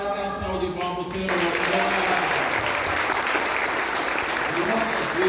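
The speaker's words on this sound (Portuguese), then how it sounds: "Dê uma salva de palmas, Senhor." A church congregation during a celebration service breaks into loud, sustained applause after a brief spoken or sung moment, the clapping dense and continuous to the end.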